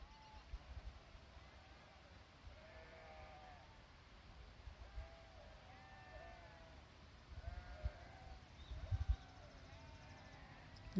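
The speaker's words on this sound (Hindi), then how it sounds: "ये सफ़ेद सफ़ेद जी तमनो दिसे लगी ये भेड़ है।" Sheep at Sinthan Top in Kishtwar, Jammu, bleat repeatedly at a distance, with several overlapping calls over a faint outdoor rumble and scattered louder knocks near the end.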